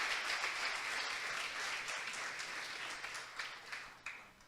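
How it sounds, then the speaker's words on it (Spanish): Church congregation applauding during a Christian sermon: steady, dense clapping that holds evenly for several seconds at a modest, slightly distant level, with a few sharper claps near the end. "¿Cuántos le dan un fuerte aplauso a Jesucristo?"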